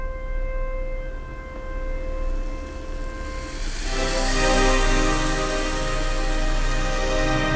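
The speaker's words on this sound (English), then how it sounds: "Can you hear that steak sear?" A steak drops into a hot pan on an induction burner, and a broad, loud sizzle rises about halfway through and holds steady over a constant electrical hum.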